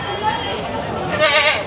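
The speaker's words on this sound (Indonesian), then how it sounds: "sini kambing-kambing yang baru datang dari petani desa Munjungan untuk dijual di Pasar Legi Munjungan hari ini" Goats bleat at Pasar Legi, a village livestock market in Munjungan, Trenggalek, where newly arrived goats from local farmers are for sale; a wavering bleat rises near the end over a steady backdrop of crowd chatter and market noise.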